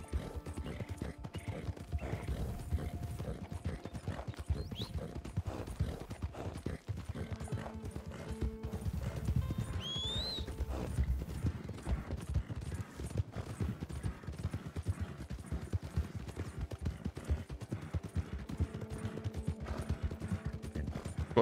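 Horse hooves in the Western video game Red Dead Online, a long steady gallop of rapid clip-clopping with brief whinnies and faint distant gunfire mixed in.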